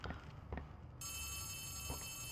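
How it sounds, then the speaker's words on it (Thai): A telephone rings steadily in Poppy Playtime Chapter 3, a bright electronic bell starting about halfway through and continuing alone, with a few soft thuds or footsteps underneath. "ได้ยินเสียงโทรศัพท์"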